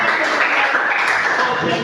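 Classroom applause, a brief dense burst of clapping from a group of students lasting under two seconds, fairly loud and close throughout.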